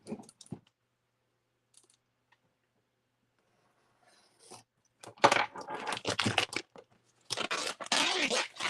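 Crisp scraping and tearing as a blade cuts open the shrink-wrapped Shadows of Brimstone Valley of the Serpent Kings board game box, short rustling bursts after near silence, close and fairly loud.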